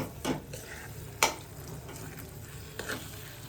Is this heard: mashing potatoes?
yes